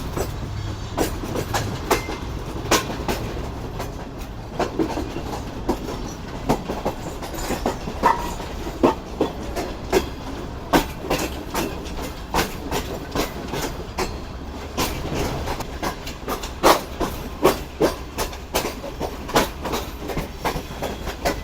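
Pak Business Express passenger train pulls into Nawabshah station, switching onto the platform loop line, its wheels beating a steady clickety-clack over rail joints with a continuous low rumble throughout, loud and close.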